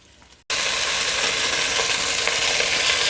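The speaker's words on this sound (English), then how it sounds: "in a Dutch oven, I'm going to render the fat of 4 thick slices of bacon" Four thick bacon slices fry in a Dutch oven, a sudden loud, dense sizzle that starts abruptly and hisses on evenly, close up with no talk.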